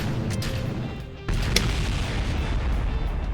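A rocket blowing up in Kerbal Space Program at full throttle, a sudden deep boom cutting into a steady engine roar that then keeps rumbling loudly, with a sharp crack just after the blast.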